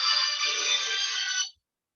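A mobile phone ringtone rings steadily for about a second and a half in an indoor lecture setting, bright and continuous, then cuts off abruptly into silence.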